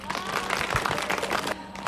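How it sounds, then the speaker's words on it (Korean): A crowd welcomes young people onstage with loud, dense applause and some cheering, a continuous close wash of clapping with faint voices mixed in. "모두 큰 박수로 환영 부탁드립니다."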